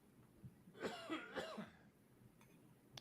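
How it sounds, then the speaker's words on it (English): A single person coughs a few times in a short burst, close and fairly loud against a quiet room. "I got a cough without the mic on there."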